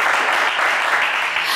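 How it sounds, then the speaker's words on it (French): A television game show studio audience applauds loudly and steadily, a dense close wash of clapping that fills the whole short stretch without pause. "Kevin, on vous applaudit également très fort."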